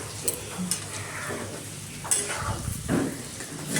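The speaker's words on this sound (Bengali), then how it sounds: "রান্না বসিয়ে দিয়েছে, এখানে মাছের তেল হচ্ছে আর এখানে পটল চিংড়িটা বসিয়ে দিয়েছে" Fish oil from katla fish, with pointed gourd and large prawns, fries in pans, making a moderate sizzle and crackle with occasional utensil scrapes and clinks.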